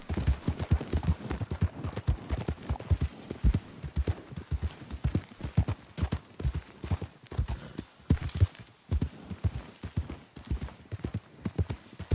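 Steady clip-clop of horse hooves at a walking rhythm in Red Dead Redemption 2, close and clear, continuing without pause with no voices over it.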